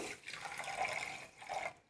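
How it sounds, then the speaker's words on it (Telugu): Water poured over sugar in a pot, with the same amount of water added to soak it for a syrup, makes a steady broadband rush with two brief louder surges before trailing off. "ఇందులో వాటర్ మునిగి పంచదార మునిగే వరకు వాటర్ పోసుకుందాం"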